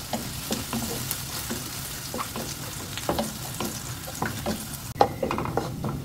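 Garlic fries in hot oil for a topping, a steady close sizzle with frequent crackles and pops and occasional stirring scrapes, no voices.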